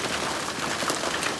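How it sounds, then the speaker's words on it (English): Hail pelting down during a hailstorm, a dense, steady patter of small hard impacts on surfaces, continuous and fairly loud with no voices. "There's some hail falling from the sky right now."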